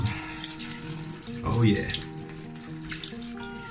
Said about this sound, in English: just go under cold shower for a minute and we go back to the hot one